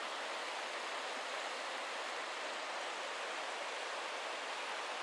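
A river rushes steadily through Johnston Canyon in Banff National Park, a continuous broadband roar of water heard close and loud, with no other sounds.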